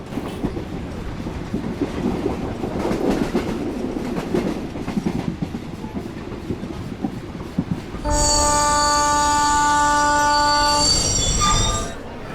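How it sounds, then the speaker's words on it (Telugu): A Mumbai–Ahmedabad train rumbles and clatters along the tracks, then a loud sustained horn blasts for several seconds over the rolling noise. "ముంబై అహ్మదాబాద్ ట్రైన్."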